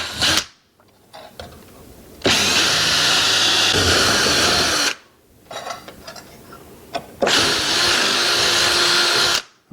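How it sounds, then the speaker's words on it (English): A power drill bores holes into steel in two long, loud bursts of high-pitched grinding whine, each lasting a few seconds and separated by quieter pauses with faint handling clicks, close by. "I just got to drill a couple of holes in the steel here."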